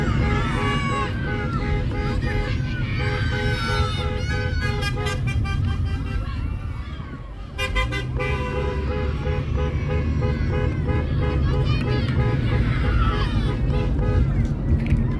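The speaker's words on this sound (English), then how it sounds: "I got all the cars honking their horns for the kids." Car horns honking in passing traffic on a road during a delivery drive, mixed with steady engine and road noise and some background voices; the toots come in repeated bursts throughout.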